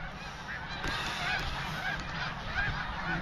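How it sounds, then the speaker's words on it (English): A flock of geese honks outdoors during an April snowstorm, repeated overlapping calls at moderate distance over a steady windy background hiss, with no talk. "Look at the birds."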